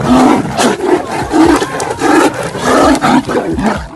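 Two large tigers fighting in the wild, letting out loud, continuous overlapping roars and snarls, close and harsh, pulsing in bursts for the whole stretch.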